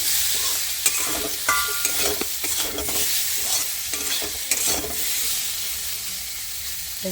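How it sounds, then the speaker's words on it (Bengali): Pumpkin pieces with turmeric powder being stirred in a hot pan, with repeated scraping strokes of a spatula over a constant sizzle and hiss. It is close and fairly loud, with no talking. "হলুদের গুঁড়ো দিয়ে নিয়েছি দিয়ে ভালো করে নাড়া দেবো"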